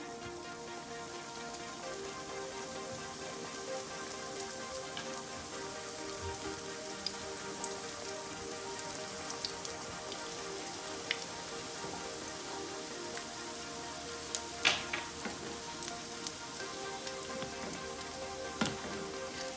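Dough-wrapped sausage balls crackle in hot frying oil with a dense, steady hiss and scattered sharp pops throughout, close and continuous with no voices.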